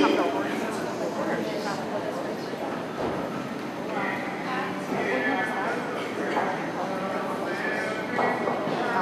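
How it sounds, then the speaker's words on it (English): Horses' hooves clop along at a walk, with voices talking over the steady rhythmic footfalls and a faint snort now and then. "Walk your horses, please."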